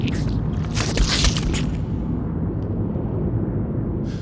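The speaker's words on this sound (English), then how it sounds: "So we'll get these explosions, specific explosions." A deep, rumbling film sound-effect explosion roars with a bright crackling burst early on, then a sustained low boom that rolls on without pause, from Saving Private Ryan.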